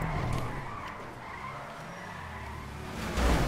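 Car skidding in a Grand Theft Auto V race, tires squealing and the engine droning continuously, rising briefly at the end.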